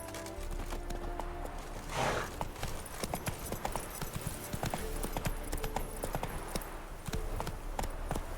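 Roach the horse gallops in The Witcher 3, a fast, rhythmic clip-clop of hooves that keeps steady and close throughout, with a brief whoosh in the middle.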